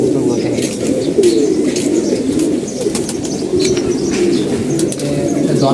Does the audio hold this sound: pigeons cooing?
yes